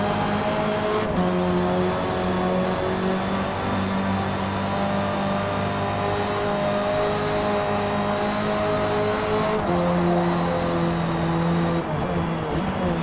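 Rally car engine in the Forza Motorsport racing game, a loud steady drone with harmonic revs rising and falling as it accelerates and shifts, continuous throughout with no talking.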